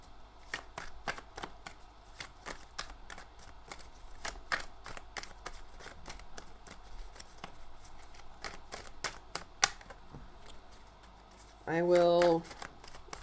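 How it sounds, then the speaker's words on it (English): Tarot cards being shuffled give rapid, crisp riffling flicks in an irregular run, soft and close, with a brief hum near the end. "I'm in the middle of shuffling"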